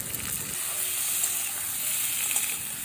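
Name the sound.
tomatoes frying with potatoes and spices in a pan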